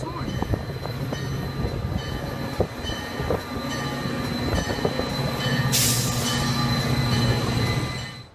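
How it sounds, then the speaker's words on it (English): A blue and white locomotive passes on the rail line at Rockport, Massachusetts, sounding a sustained, loud horn over the heavy rumble and squeal of wheels and rail cars. "Here's a nice horn."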